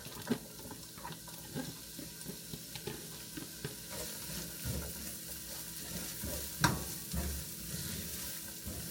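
Onions frying in sesame oil in a pan previously used for shrimp, a steady close sizzle with scattered crackles and light stirring clatter, a louder burst near the end, no talking.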